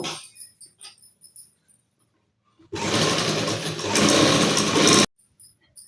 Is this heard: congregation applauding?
no